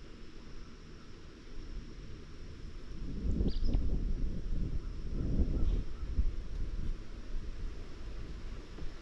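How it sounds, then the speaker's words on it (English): Steady outdoor wind buffets the microphone of an action camera, with a broad low rumble that swells and gusts louder through the middle before easing, and no speech. "There is some wind out here."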